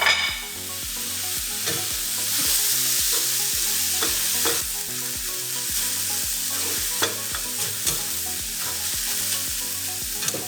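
Chopped vegetables and tomatoes fry in a pan for breakfast egg cups, giving a steady loud sizzle with repeated stirring scrapes and clatters throughout, with no voices.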